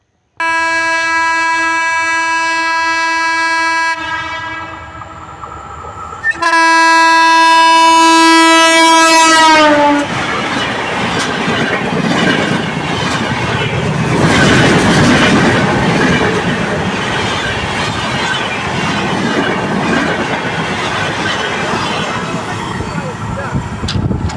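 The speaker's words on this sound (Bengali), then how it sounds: "ট্রেন চলে গেছে। ট্রেন এই লাইন দিয়ে আসছিল।" A train on the Jessore–Dhaka rail line blasts its horn in long, loud notes, then rumbles and clatters past close by along the tracks, the rolling noise continuing steadily.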